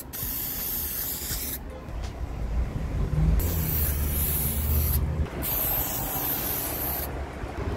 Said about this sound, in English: Now let's open the spray paint.